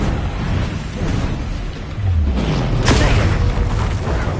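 Fire spell cast in the video game Hogwarts Legacy, a loud whooshing burst with a deep boom rising out of a busy, rumbling battle backdrop.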